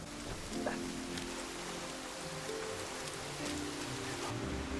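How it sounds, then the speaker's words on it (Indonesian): Heavy rainstorm in a film, with a dense continuous hiss of rain pouring on surfaces, scattered drop impacts and a low rumbling undertone that holds steady throughout, with no voices. "Keluarga Kim menerobos hujan badai"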